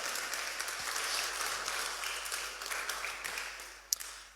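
Church congregation applauding after a sermon passage, a steady wash of clapping at moderate distance that holds for several seconds and thins toward the end, with one sharper clap near the close.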